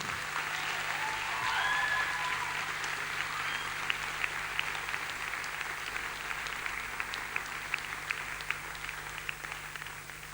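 At a 2010 Icelandic school music contest, an audience applauds a sung performance with warm, sustained clapping that fills the hall evenly, close and full, with a low steady hum beneath it.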